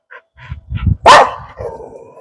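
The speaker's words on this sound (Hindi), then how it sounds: "और तेज भौंक, और तेज भौंक।" A dog barks loudly at close range in a Rani Bagh colony street in Dhampur, India: a few short yips first, then one sharp, forceful bark that trails into a whining tail.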